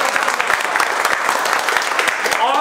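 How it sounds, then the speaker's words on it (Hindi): A classroom audience at a mobile repair training institute claps loudly and continuously, dense overlapping hand claps holding a steady level, with a brief whistle or cheer near the end. "एक बार अपने घर वालों के लिए भी ताली बजाओ जिनके भरोसे,"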